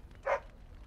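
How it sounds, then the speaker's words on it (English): A single short dog bark from a puppy in the fantasy RPG Dragon Age: Origins, a brief mid-loud yap standing alone over quiet game ambience. "Who's the cute and adorable puppy?"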